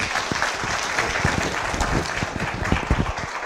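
A meeting audience gives a steady round of applause, dense continuous clapping from many hands that holds at even loudness throughout.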